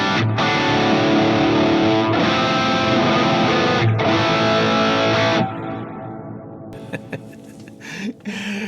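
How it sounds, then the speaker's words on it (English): Electric guitar played through a single amp with heavy overdrive plus delay and reverb, loud sustained distorted chords that cut off into a long washing echo tail, close and alone. "I imagine that delay and reverb is going to be a little bit too much for this overdrive"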